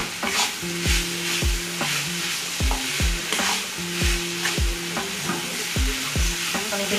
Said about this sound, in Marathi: भेंडी छान अशी मिक्स करून घ्यायची